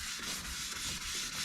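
Sanding sponge scuffing varnished teak on a sailboat, a light abrasive hiss with steady back-and-forth strokes, close and continuous throughout.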